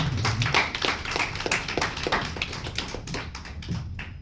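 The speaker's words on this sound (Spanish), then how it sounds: "Aplauso." A few people clap at a book launch recital, brief uneven applause from a small nearby audience that thins out toward the end.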